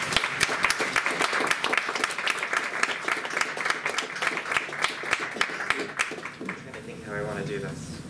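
Audience applause at a poetry reading launch event at Babycastles, dense steady clapping from a room of people, fairly close, lasting most of the clip before tapering off near the end into the start of a voice.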